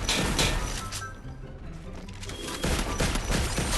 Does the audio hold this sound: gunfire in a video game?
yes